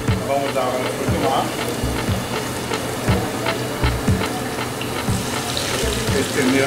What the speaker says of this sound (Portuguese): Vamos dar água no frutos do